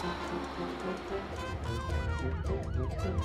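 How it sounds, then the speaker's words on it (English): Police car siren from a children's transportation vocabulary recording, wailing continuously at steady loudness with rising and falling sweeps and no talk over it. "Police car."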